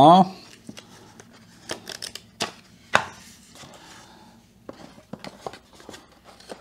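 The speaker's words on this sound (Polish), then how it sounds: "otwórzmy więc pudełko. W środku znajduje się oczywiście papierologia." A smart RGBW Wi-Fi bulb box is opened and its paper inserts handled, giving sharp crinkles, rustles and taps in short bursts while someone talks over them.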